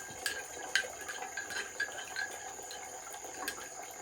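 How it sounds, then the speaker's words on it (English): A knife is rinsed in water outdoors, with faint sloshing and small trickling splashes, a few brighter clinks and drips standing out over a low steady hiss. "Wash it in the water here just to make you happy."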